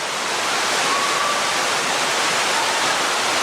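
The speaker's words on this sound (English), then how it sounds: "You get to walk behind this waterfall." A waterfall at Watkins Glen State Park roars in a dense, continuous rush of falling water. Heard from close by, it stays loud and steady throughout with no voices.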